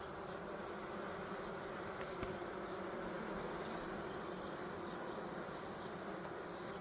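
A dense, steady buzzing of many calm honeybees around an open hive fills the air close by, continuous and even throughout, with no voices.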